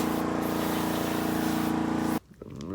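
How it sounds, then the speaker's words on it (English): Contact cleaner is sprayed onto the carburetor parts of a Kawasaki KX65 two-stroke dirt bike, giving one steady, close, loud aerosol hiss that stops abruptly, followed by faint handling noises. "About to spray a little bit of contact cleaner."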